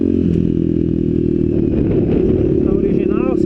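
Honda CRF 250F dirt bike with an aftermarket exhaust, its engine idling and revving steadily close by, a continuous loud throaty drone with slight rises in pitch throughout.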